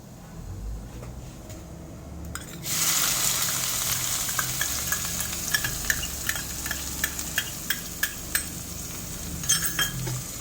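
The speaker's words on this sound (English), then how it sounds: "Saute chopped onions well." Chopped onions sautéing in a pan with cumin seed for a soya chaap curry, a steady close sizzle with clinks of a stirring spoon against the pan, starting after a quieter moment.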